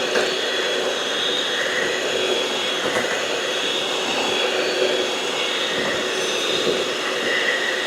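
An electric mixer whips cream toward butter with a steady, continuous whirring drone at constant level, close by, with no pauses.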